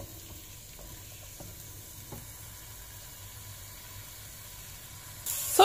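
Broccoli and rice fry quietly in a pan with a faint, low sizzle and a few soft stirring taps, then a sudden louder hiss bursts in at the very end.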